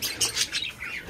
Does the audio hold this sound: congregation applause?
no